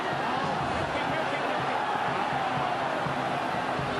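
A dense, steady roar from a large rugby league crowd at a Warriors versus Eels NRL match, loud and sustained without a break, with a commentator talking over it.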